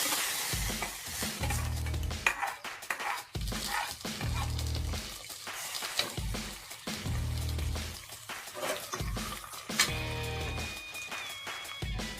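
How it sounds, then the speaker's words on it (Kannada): A mustard-seed tempering is poured into horse gram saaru, giving a loud, continuous sizzle up close, with repeated stirring scrapes and clinks against the pot. "ಈಗ ಒಗ್ಗರಣೆಯನ್ನು ಹುರುಳಿಕಾಳು ಸಾರಿಗೆ ಹಾಕೋಣ"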